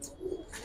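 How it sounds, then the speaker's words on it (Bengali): A domestic pigeon from a collection of Giribaz and colored military pigeons gives a single soft, faint coo, brief and close, with no talk. "এই যে কবুতর"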